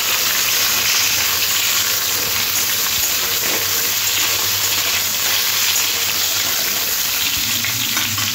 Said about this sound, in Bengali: কুমড়োটাও আলুর সাথে একটু ভাজা ভাজা করে নেব।